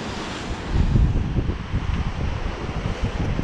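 Ocean waves surge into the Spouting Horn at Cape Perpetua, a steady churning roar of water with heavy wind buffeting the microphone and no speech.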